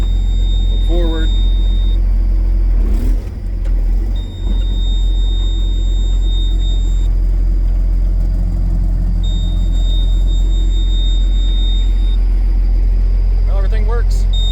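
A Case STX375 tractor engine rumbles steadily at low pitch while the machine moves forward, with a few brief clunks and intermittent high beeping tones.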